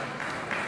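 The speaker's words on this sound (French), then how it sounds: "Applaudissez très fort, mesdames et messieurs" Applause from a ceremony audience marking 3 May press day in Bukavu, a brief dense patter of clapping at moderate level.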